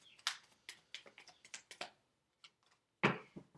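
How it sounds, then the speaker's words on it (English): Tarot cards riffle and snap in quick, crisp bursts of light flicks and taps, close up, with a final louder slap. "One more shuffle."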